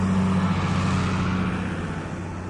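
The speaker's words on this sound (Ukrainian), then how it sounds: "І тут, у темряві, трасою номер 15 прогудів автомобіль із напівпричепом." A semitrailer truck rolls along a highway at night, a loud, steady engine and tire drone with a low hum that holds throughout and fades slightly at the end.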